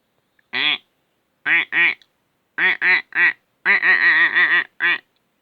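A voice imitates a farm duck, giving a series of nasal quacks in short bursts: one, then a pair, a few clustered, a longer rapid run and a final quack, loud and close with no other talk.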